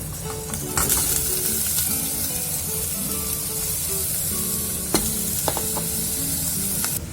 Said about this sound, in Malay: So kita letak minyak, lepas tu letak bawang dan kejap. So kita masukkan daging kita lah.